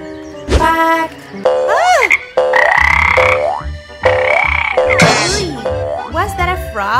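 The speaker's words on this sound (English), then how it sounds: "Was that a frog?" Loud, close frog croaks repeat in a run of bursts, some rising and sweeping in pitch, filling the scene in an animated cartoon adventure.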